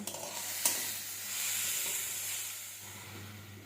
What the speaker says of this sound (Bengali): সব কিছু ভালোভাবে মিশিয়ে নেব